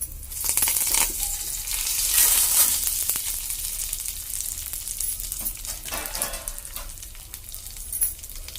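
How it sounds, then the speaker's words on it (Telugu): Curry leaves, dried red chillies and garlic sizzle and crackle steadily in hot oil in a pan, with a few brief spatters and a light stir partway through, alone without talk. "ఇప్పుడు వీటిని బాగా ఫ్రై చేసుకోవాలి చూడండి ఫ్రై అయిపోయాయి కదా"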